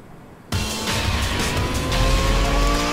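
In the Need for Speed Most Wanted racing game, a race car engine bursts in loud after half a second of quiet and keeps revving hard, with tire squeal mixed into the roar throughout.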